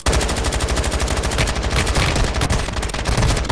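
Rapid, sustained machine gun fire from a hundred-round gun in Warzone Mobile. Dense, evenly spaced shots hammer out close and loud in one unbroken burst, with no pauses between rounds.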